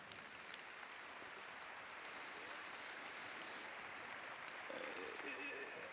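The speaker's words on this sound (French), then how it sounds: "On les applaudit encore." An audience applauds steadily for about six seconds, sounding faint and distant, with a voice coming through briefly near the end.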